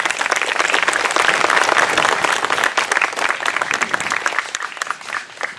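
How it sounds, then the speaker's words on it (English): A crowd applauds loudly and continuously, the dense clapping tapering off slightly toward the end. "Give them a big round of applause."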